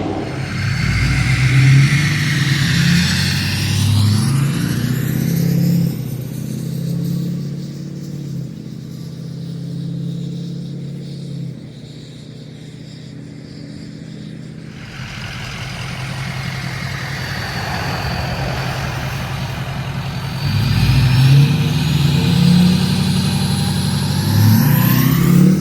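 A 6.0-liter truck engine fitted with a massive elbow exhaust tip idles loudly, then revs and drops back in deep, booming surges, ending on another hard rev.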